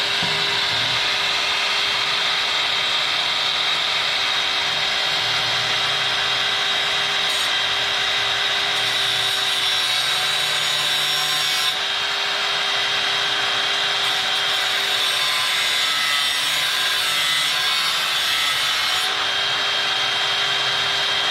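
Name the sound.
grinding wheel cutting on a 2003 Ford Crown Vic radiator hose job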